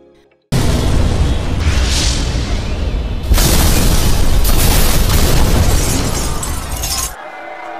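A bomb blast rips through a market in a film scene: a sudden loud broadband explosion bursts in after near-silence, with shattering debris and a second surge of roar before cutting off abruptly.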